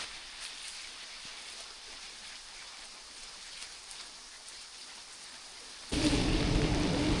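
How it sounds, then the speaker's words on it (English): Steady rain hisses over a forest during a giant thunderstorm, then a deep, loud thunder rumble swells in near the end and lingers over the downpour. "Big thunder."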